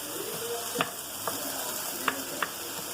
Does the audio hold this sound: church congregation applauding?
no